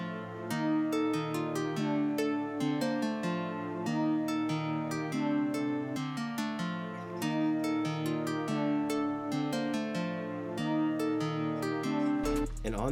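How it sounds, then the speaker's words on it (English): A dark synth lead from a one-shot kit, EQ'd with the mids lifted for a trap beat, plays a repeating melody of sustained, layered notes with sharp percussive hits over it. The sound is steady and continuous throughout. "we got this little like synth, like leads type shit from the one-shot kit"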